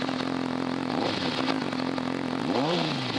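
A motorcycle engine runs close by with a steady, buzzing drone, small pitch sweeps near the end as it rises and falls briefly, no talk over it.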